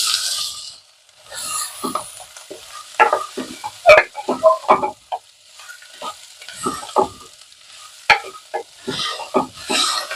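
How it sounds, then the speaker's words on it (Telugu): Ivy gourd frying in a small pressure cooker on a medium flame, quiet sizzling broken by bursts of scraping and stirring with a spatula against the pot, intermittent and close; no talking. "ఇప్పుడు ఇది మీడియం టు హై ఫ్లేమ్లో పెట్టి ఫ్రై చేయాలండి"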